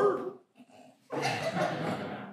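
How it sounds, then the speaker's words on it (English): A dog whimpers in a high, strained whine, goes quiet briefly, then lets out a louder, sustained bark-like yelp close by. "I think the dog's got a few words."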